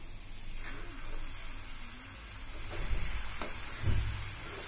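Banana mixture cooks in a covered pan with a steady low sizzle and soft frying crackle, stirring bumps and small spatters breaking through near the end, no voices.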